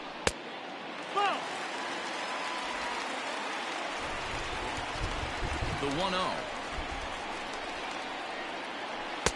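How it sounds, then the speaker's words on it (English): Steady rain falls across a ballpark in the baseball video game MLB 20, a dense hiss running the whole time beneath a play-by-play commentator's voice, with a couple of faint crowd swells. "the rain starting to intensify here. It's coming down a little heavier now."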